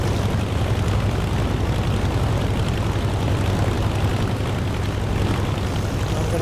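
Propeller aircraft engine drones steadily and loudly at full power during a takeoff roll in the DCS flight simulator game, a constant heavy hum with no voices.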